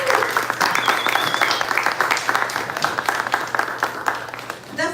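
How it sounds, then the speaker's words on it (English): A round of applause welcoming students at a talks event, many hands clapping in a dense, uneven patter for several seconds, with a faint voice briefly audible. "it's a pleasure for Gary and me to welcome you with a round of applause"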